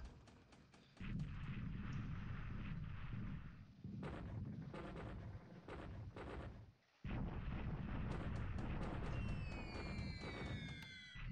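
Bombing of an air base in the WWII strategy game War in the Pacific: dull, booming explosion rumbles rolling in several long bursts with brief gaps, steady and heavy, with no voices.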